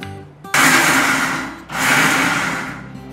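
A kitchen mixer grinder whirs loudly as it grinds boiled onions into a paste, running in two bursts with a brief dip between them and no talking.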